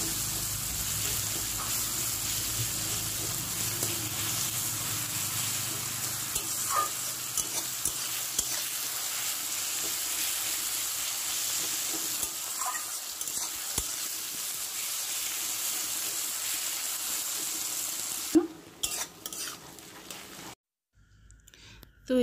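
Onions, tomatoes and four green chillies frying in a pan for rui posto curry, a sustained close sizzle with intermittent stirring scrapes, cutting off abruptly near the end, with no one talking.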